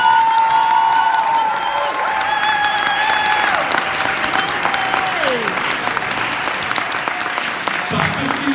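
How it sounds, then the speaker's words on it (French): A crowd in the stands at the Japan Impact Mister Kakkoii 2019 contest claps loudly and continuously, with cheers and high whoops rising over the dense applause. "Je vous demanderai de les applaudir une dernière fois."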